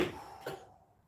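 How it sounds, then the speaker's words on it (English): A single short, soft cough, fairly close, fading quickly into quiet room tone. "Maybe he's saying that because I'm coughing."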